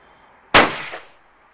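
A single sharp shotgun blast at a clay pigeon, loud and close, with a quick decaying tail and no voices.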